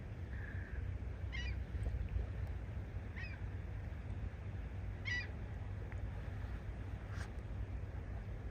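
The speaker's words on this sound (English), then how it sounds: "That's a seagull there." A seagull calls several times, each cry brief and fairly distant, spaced a couple of seconds apart over steady wind and low water or boat rumble on an Alaskan shore.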